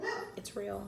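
A dog gives a couple of short barks close by while a person keeps talking over them.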